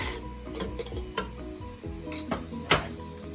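Celery stirred in a pot for chicken noodle soup, with soft sizzling under a few scraping spoon strokes and a sharp clink near the end, close and fairly quiet.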